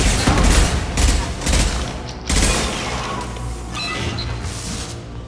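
Loud sustained gunfire in the video game Mass Effect 2, with rapid bursts and heavy booming shots that rise and fall throughout, close and dense with no pauses.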